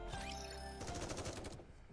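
Rapid automatic gunfire from the Nikke video game, a dense burst of repeated shots starting partway in and continuing loud and close to the end, after a sustained tonal game sound.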